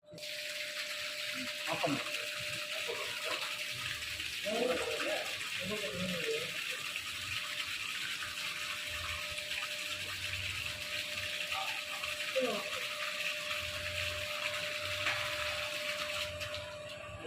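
Water gushing steadily from a repaired borewell pump, a constant rushing flow throughout with people talking nearby over it.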